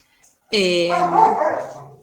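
A playful one-year-old pet dog gives a single drawn-out bark or yelp close by, loud and sustained for about a second and a half after a quiet start.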